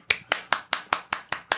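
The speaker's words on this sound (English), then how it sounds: "That's why I applaud." Hands clapping eight times at an even, brisk pace, each clap crisp and close, with short silences between and nothing else heard.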